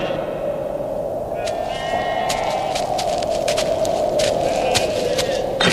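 A flock of sheep bleating over a steady droning hum, with repeated short overlapping bleats from several animals that grow more frequent as the sound goes on.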